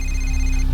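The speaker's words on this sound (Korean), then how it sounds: "전화기가 다시 울렸습니다" A telephone rings in a courtroom drama series, giving a brief, steady electronic tone with a sustained high-pitched ring that holds for under a second over a low background hum.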